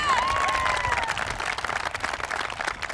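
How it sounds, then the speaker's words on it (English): Graduation audience at a high school ceremony breaking into applause, a crowded mix of clapping and light cheering that swells early and then thins, with a faint voice or whistle-like tone near the start. "It's okay, we can clap on that one."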